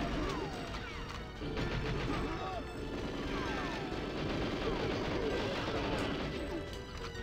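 Dense game gunfire and crashing impacts from GoldenEye 007 as machine gun turrets are shot at, continuous loud bursts with whistling ricochet-like sweeps over steady background noise.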